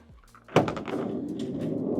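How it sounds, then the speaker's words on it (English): A Ram Promaster van's sliding door is pushed shut with a single solid thunk, followed by a low rattling settle, close and moderately loud with no talk. "you want to just shut the door a few times, make sure it's all seated properly"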